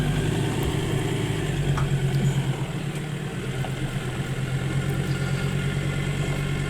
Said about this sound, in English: I'm just going to drive the Ranger up.